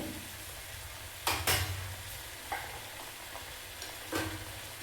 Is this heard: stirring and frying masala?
yes